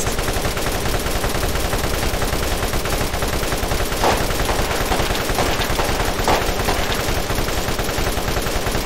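Sustained rapid machine gun fire from a 100-round magazine in the Borderlands video game, a dense unbroken stream of shots with a few louder bursts standing out.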